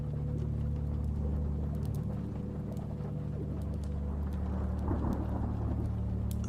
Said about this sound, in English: Thunder crashed outside